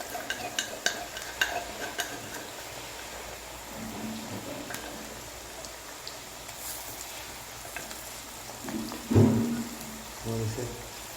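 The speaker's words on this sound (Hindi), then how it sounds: "अभी हम इसमें लहसुन और अदरक का पेस्ट ऐड कर देते हैं।" Garlic and ginger paste fries and is stirred in a pan, a steady soft sizzle broken by scraping stir strokes and a few louder clatters near the end, with brief talk in between.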